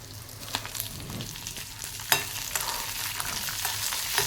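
Green chili pieces, plenty of garlic and peanuts sautéing in a pan for thecha, an even close sizzle broken by sharp scraping stirs and taps of a spatula.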